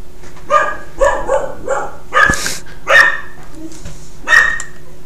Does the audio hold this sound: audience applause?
no